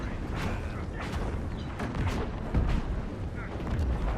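Bombs explode amid fire in the Dragon Age Inquisition video game: a run of heavy, rumbling booms and crackling blasts, dense and loud, over a continuous roiling fiery texture.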